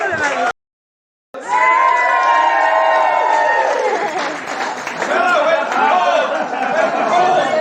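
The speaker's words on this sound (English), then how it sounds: "A round of applause for Jake" Wedding guests at the speeches clap and cheer in a loud, sustained burst after a short silence, with chatter and voices mixed into the crowd noise.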